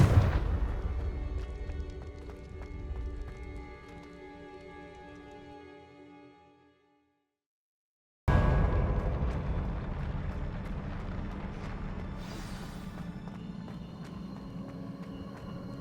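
A Confringo spell exploding in Hogwarts Legacy, a booming blast that rumbles and decays into a few seconds of silence, followed by another loud burst and rolling rumble under game music.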